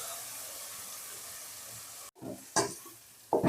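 Ground paste hits onions frying in a pan for chole, setting off a steady close sizzle that cuts out briefly, then returns in short bursts of stirring and spitting.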